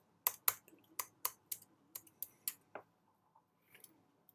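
Quick keystrokes on a computer keyboard as an ID number is entered, about a dozen crisp taps in an uneven burst followed by a few scattered lighter clicks, close and clear in a quiet room.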